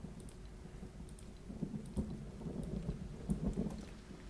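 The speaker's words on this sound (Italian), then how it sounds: "è iniziato a piovere" Rain begins falling in the Lego Fortnite video game, a soft steady patter with low rumbling that swells slightly, quiet and continuous with no talk.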